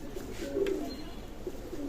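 Pigeons in a loft of Pakistani teddy birds give soft, low cooing close by, a faint continuous murmur of calls with no talk.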